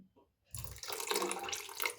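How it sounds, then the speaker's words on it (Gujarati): Water pours into a kadhai holding a smooth spinach paste for palak shorba, a sudden close splashing gush that starts after a brief silence and keeps running. "થોડું આપણે એમાં પાણી એડ કરી દઈશું."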